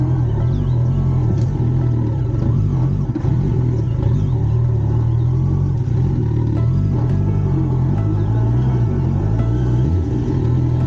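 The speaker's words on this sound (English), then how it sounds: "I'm literally just crawling the bike" A motorcycle engine crawling slowly through deep mud on a village track in Kenya, a loud, steady low rumble with slight rises in revs throughout and no pauses.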